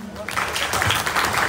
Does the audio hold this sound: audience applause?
yes